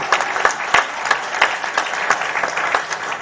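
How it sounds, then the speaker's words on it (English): A church congregation claps together in steady applause, a dense run of loud hand claps with brief swelling peaks, close and filling the room with no voices over it. "Give God a mighty hand clap."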